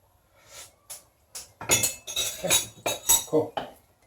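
A metal spoon clinks and scrapes inside a cooking pot while Canadian-style tinola is prepared, with a series of sharp bright knocks and rattles following a quieter start, close and fairly loud.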